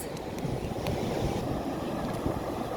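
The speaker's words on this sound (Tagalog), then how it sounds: "Ayan na yung alon." Ocean waves wash onto the beach at Shek O in Hong Kong, a steady broadband rush with strong wind buffeting the microphone throughout and no one speaking.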